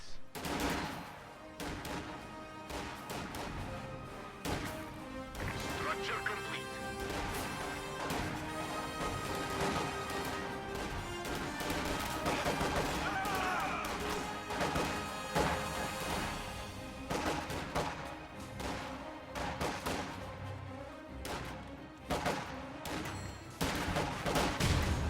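Grenade blasts and gunfire fill a real-time strategy game battle, with dense overlapping crashes, bursts of shots and booms running almost nonstop at high loudness throughout.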